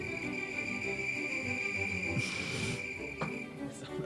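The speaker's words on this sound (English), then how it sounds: "Play the crickets." Crickets chirp steadily in a constant high, thin trill played as a sound effect during a Dota esports tournament broadcast. The trill is moderately loud and continuous, with faint scattered noises and a brief hiss over it.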